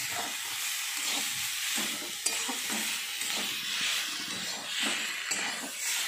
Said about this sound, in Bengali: দিয়ে ভালো করে একটু নাড়াচাড়া করলাম।